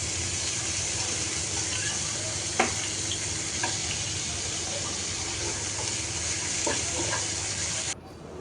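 Fish fries in hot oil with onion and spices, a dense, steady sizzle close up, broken by occasional clinks of stirring, until the frying sound drops away near the end.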